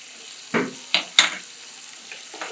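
Cooked vegetables are stirred with lemon juice in a pan for vegetable bataka poha, a few quick scraping and clinking strokes close by over a faint background.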